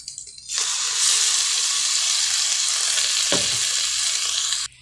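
Tomato and greens sauté in a pan, starting with a low rumble and then swelling into a loud, steady sizzle with a brief stirring scrape before cutting off at the end.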